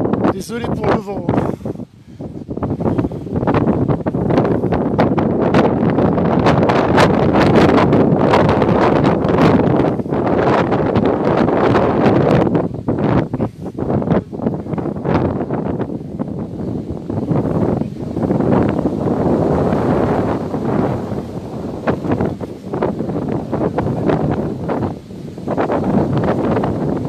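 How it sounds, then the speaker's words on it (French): Outdoor wind buffets a microphone in loud, continuous rumbling gusts near the street outside a Brittany foundry, with a person speaking intermittently underneath the roar. "Désolé pour le vent."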